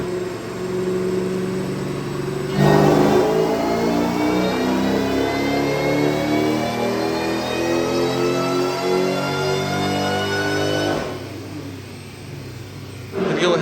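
A supercharged Saleen engine revs hard on a dyno, the loud engine note climbing steadily in pitch through a long sustained pull before cutting back near the end.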